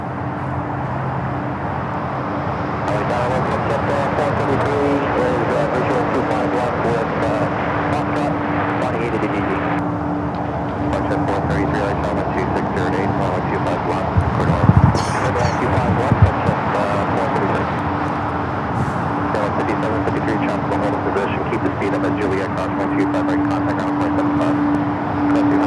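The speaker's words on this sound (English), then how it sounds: "Falcon is now rolling and up in the air" A Dassault Falcon 7X business jet takes off from runway 25 left at LAX. Its steady engine roar holds throughout under continuous talk from onlookers and air traffic radio.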